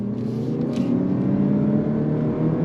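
A 2025 Lexus UX 300h F Sport hybrid accelerating on throttle in Sport Plus mode, a steady close engine hum and whir that holds without a break.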